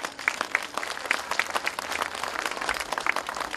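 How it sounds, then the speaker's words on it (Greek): Audience at a folk dance performance applauding, a dense patter of many hands clapping at moderate distance, steady for a few seconds without a break. "Ένα χειροκρότημα παρακαλώ."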